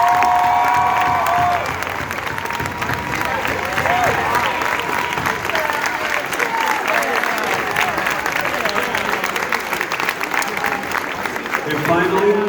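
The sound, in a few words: round of applause for the teachers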